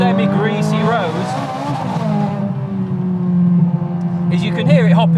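A tuned 746 BHP Novitec Ferrari 430 Scuderia hops and skips for traction on a semi-greasy street, its engine note rising and falling in sharp revving sweeps while someone talks over it.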